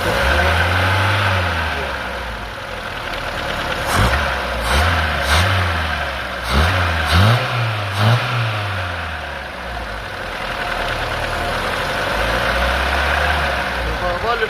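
A carbureted VAZ 21083 car engine idles loudly up close, then is blipped through several quick revs in a row before dropping back to a steady idle, with a few knocks and rattles.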